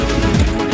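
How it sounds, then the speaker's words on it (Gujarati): Heavy rain driven by strong wind during the monsoon on Girnar mountain near a Mahakali temple, a steady dense roar filling the short stretch without letup. "ફૂલ પવન છે વરસાદ આવે છે"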